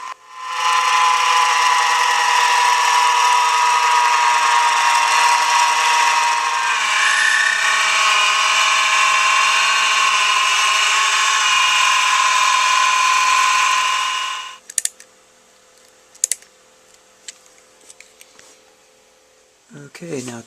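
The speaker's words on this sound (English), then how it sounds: "we'll start drilling the next one now for secure point." A power drill whines steadily and loudly for about fifteen seconds during table fabrication, then stops, followed by a few faint clicks and handling noises.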